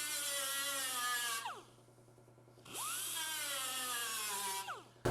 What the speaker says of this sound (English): I grind and I feel. Grind and feel.